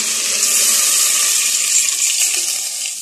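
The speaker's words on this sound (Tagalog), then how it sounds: "maglalagay na ako ng tubig" Water pours steadily into a cooking pot for chicken tinola, a continuous, close rushing splash that eases off slightly toward the end; no voices.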